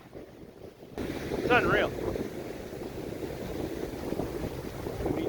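Breezy wind blows outdoors on the shore of the Bay of Fundy, buffeting the microphone with a steady, rough rush, and a person speaks briefly over it.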